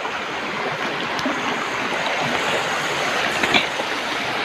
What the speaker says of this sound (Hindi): देखिए पानी कैसे जा रहा है।